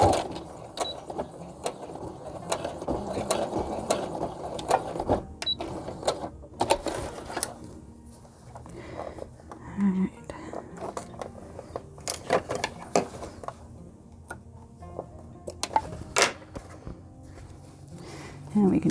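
Sewing machine stitching elastic into an EPP grime guard for an 8-inch Q-Snap frame, a fast mechanical chatter in several bursts with pauses between them and a voice talking at times.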